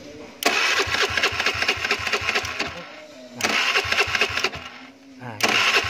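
A carbureted Honda Beat motorcycle's engine starts during a mobile repair job, the starter cranking in three repeated bursts with rhythmic chugging between them, and a voice speaks under the noise.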